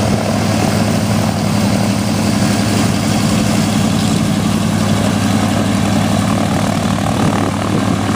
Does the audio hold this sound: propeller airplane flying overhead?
yes